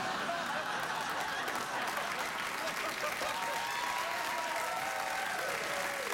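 Studio audience on a late-night talk show clapping steadily and loudly, with scattered chuckles and laughter mixed into the sustained applause throughout.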